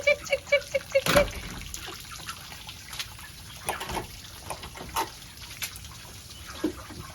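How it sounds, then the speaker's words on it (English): Shallow splashing steps through standing water on a farm, a quick run of sloshes at the start followed by softer, irregular trickling and wading sounds, fairly close and fairly quiet. "I'm walking in all this water"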